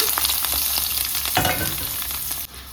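Chopped onion, garlic and green chili fry in a hot pan while being stirred, a steady close sizzle with scraping strokes before it cuts off near the end.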